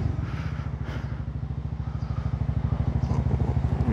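A Honda Forza 350 scooter fitted with a new exhaust idles close by, its engine putting out a steady, throbbing run of low pulses that grows slightly stronger and punchier toward the end.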